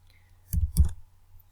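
Two quick, close clicks of a computer mouse in a spreadsheet program, sharp and distinct, about a quarter second apart, in otherwise quiet surroundings.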